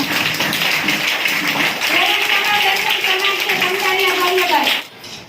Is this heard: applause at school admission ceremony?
yes